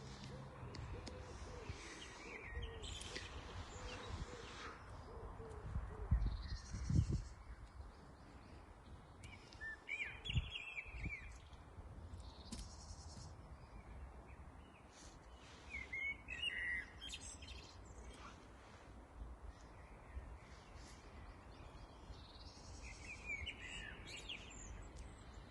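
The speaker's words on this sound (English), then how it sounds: "Birds singing." Several birds chirp and sing in a storm-damaged woodland being replanted with new trees in Aberdeen, bright tweets and calls scattered over a faint steady background, with a few low thumps.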